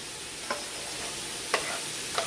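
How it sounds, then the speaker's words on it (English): Rice being stirred into a cast iron skillet for a one-pot stuffed pepper casserole, a few light scraping strokes spaced apart over a soft steady background hiss. "And then you're going to stir in the rice"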